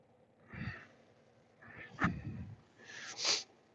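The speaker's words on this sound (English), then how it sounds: "sniffle, snort" Breathy nasal sniffles and a sharp snort come in three short bursts, close and fairly soft, with no talking.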